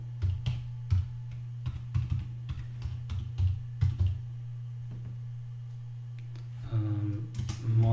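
Keystrokes on a computer keyboard entering a Fedora terminal install command, irregular bursts of close clicks with a steady low hum beneath and a brief rustle near the end.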